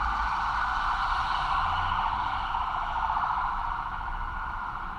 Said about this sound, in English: You hear the alarm?